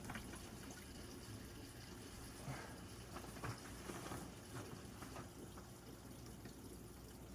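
Water running steadily from a water system line as air is bled off after a well system repair, a continuous hissing, splashing flow with faint irregular spurts, fairly close and alone without talk.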